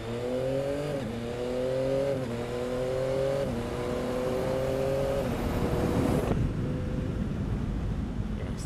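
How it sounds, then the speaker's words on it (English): A 2021 Yamaha MT-09 SP motorcycle accelerates hard, engine note climbing through several rising pulls, each cut by a quick, clutchless up-shift about once a second, close and loud with wind rush over the microphone. "the up and down quick shifter on the MT09 SP"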